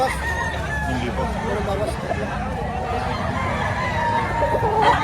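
Chickens and roosters cluck and crow at a poultry market in Batangas, mixed with crowd babble and nearby voices talking over the birds.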